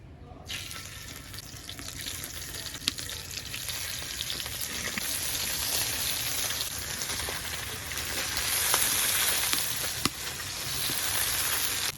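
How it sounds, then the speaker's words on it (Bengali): Fish frying in hot oil in a wok gives a steady, loud, close sizzle that runs the whole time, with a few sharp pops and clicks breaking through. "তেলটাও গরম হয়ে গেছে, মাছগুলি দিয়ে দেব।"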